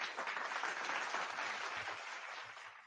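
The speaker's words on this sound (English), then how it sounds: "Round of applause for you" A small audience gives a round of applause, a dense clatter of hands that stays steady, then thins slightly toward the end, moderately loud with no voices over it.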